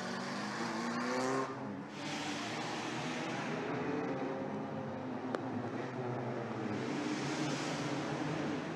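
A historic race car accelerates hard around the Circuit des Remparts street circuit, its engine holding a loud, steady, full-throttle roar for the whole stretch with a brief dip early on.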